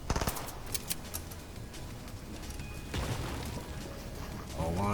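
Gunshots fired from behind in a sniper-focused shooting game, a burst of sharp cracks at the start followed by scattered shots and ongoing game noise, moderately loud with faint talk.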